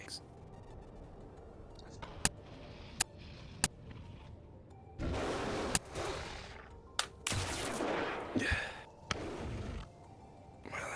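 Sharp, isolated gunshots crack out in a roleplay video game, spaced irregularly and then joined by longer bursts of rapid fire, with quiet whispered voices and breathing in between.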